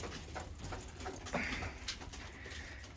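A pet bird indoors gives soft coos and quiet rustling movements, with faint pattering and scraping close by and no talking.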